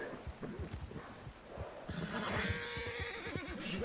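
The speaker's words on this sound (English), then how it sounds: "So many horses." Horses in the Red Dead Redemption 2 roleplay world whinny and neigh while hooves clip-clop in a quick uneven patter, fairly close and busy, with several animals moving together.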